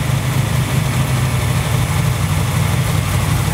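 Steady, loud rumble of a cold engine idling on a freshly rebuilt Holley 4150 Brawler carburetor, a continuous low drone with even vibration throughout and no voices.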